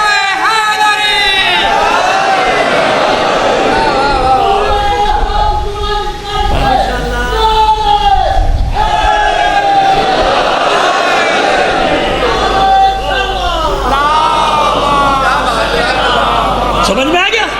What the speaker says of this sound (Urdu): اب نعرہ لگایا